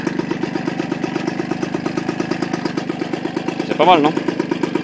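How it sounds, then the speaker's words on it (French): A Peugeot 103 MVX moped fitted with an expansion exhaust, idling close by with a steady, rapid two-stroke putter, while a voice briefly speaks over it. "Donc très joli bruit, je trouve, pour ce pot à pompe."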